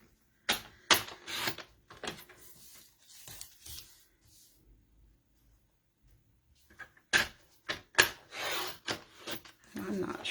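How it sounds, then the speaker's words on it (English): Scissors cut through a strip of card stock for a trifold card, giving short, crisp, close snips in quick clusters with a quiet pause between them. "I have to cut that with my scissors."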